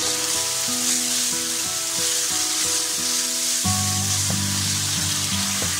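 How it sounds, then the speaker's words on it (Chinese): Scallions and tomato stir-frying in hot oil in a wok for a tofu and zucchini dish, with a steady loud sizzle throughout and scraping stirs, the frying swelling louder partway through, no talking. "起锅烧油，放入葱花炒香， 加入番茄翻炒出汁"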